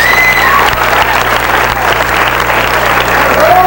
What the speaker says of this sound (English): Let's give them all a nice round of applause.